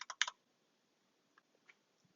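Key presses on a computer keyboard while searching by name in macOS Finder, a quick burst of four sharp clicks followed by a few sparse, fainter taps in an otherwise quiet room.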